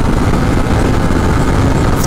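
A 2019 Yamaha MT-09 motorcycle accelerating hard from third gear, a loud steady engine roar with wind rush, continuous and close throughout.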